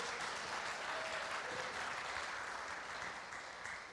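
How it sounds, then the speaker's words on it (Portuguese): Church congregation applauding together in worship, a dense steady wash of clapping that holds throughout and fades slightly toward the end, with no talk over it. "Você pode aplaudir e glorificar a Deus."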